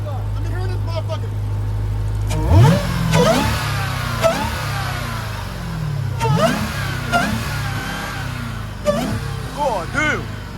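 A Dodge Challenger SRT Demon engine revs loudly several times in bursts, rising and falling, at a car meet, with voices talking and shouting over it close by.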